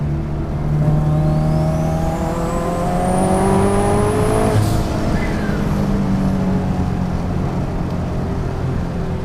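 A turbocharged Scion FR-S accelerates hard in third gear, its engine note climbing steadily in pitch under a rising turbo whine, loud and close from inside the car, then easing off near the end.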